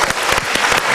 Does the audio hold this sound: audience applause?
yes